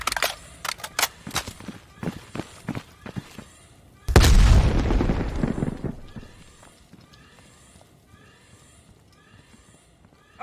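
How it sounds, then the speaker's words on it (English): A grenade explosion in Call of Duty: Black Ops Cold War bursts loudly after a run of sharp, closely spaced gunshots, then rolls into a long rumbling decay that fades over several seconds. "Grenade out!"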